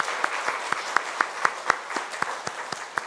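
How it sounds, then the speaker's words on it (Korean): A church congregation at a Sunday service claps to welcome new members, with sharp distinct claps standing out in a steady rhythm over softer background clapping at a moderate level. "큰 박수로 함께 환영하겠습니다."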